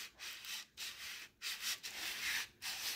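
150-grit sandpaper rubs lightly over a vintage wooden salad bowl in rhythmic strokes, each a close, breathy scrape with short pauses between, about five passes in all.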